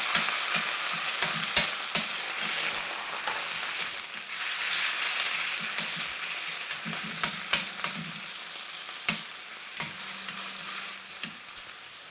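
Plum tomatoes hit a pan of frying aloo gobi masala with a bright, continuous sizzle, while a spoon scrapes and clinks against the pan at irregular intervals.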